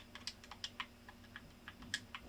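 Keyboard typing from the Final Sentence typing video game, a faint series of light, separate key clicks at an uneven pace over a low background hum.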